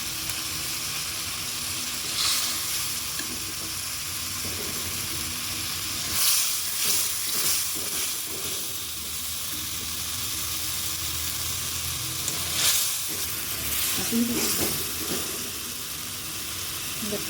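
Potato curry frying in a pan after turmeric powder goes in: a steady, close hiss of sizzling oil with occasional swells and scraping bursts as it is stirred.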